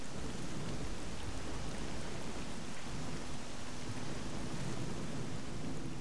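Thunder during a rainstorm in the video game S.T.A.L.K.E.R.: a dense, steady roar of rainfall with low rumbling running through the whole stretch, and no voices.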